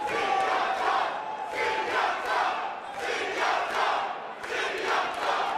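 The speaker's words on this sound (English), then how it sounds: "There's the crowd for Brando Mendoza becoming vocal here in the early going" A fight-night crowd at the Burbank Marriott chants and cheers loudly and continuously, rising and falling in rhythmic swells of massed voices.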